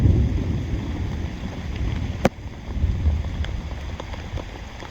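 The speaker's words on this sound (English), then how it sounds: "It actually came such a hard downpour." Heavy rain pours steadily onto a tarp at a camp during a thunderstorm, a dense broadband wash with a low rumble and one sharp crack partway through.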